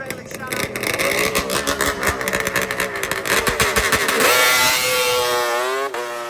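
A two-stroke drag racing motorcycle launches and accelerates hard down the strip at a drag racing nationals, its loud buzzing engine rising in pitch through rapid gear changes, with a voice talking over part of the run.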